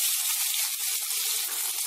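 Sliced onions sizzle in hot oil with fennel seeds and curry leaves, making a steady, dense hiss with small crackles. It is close and fairly loud, and no voice is heard.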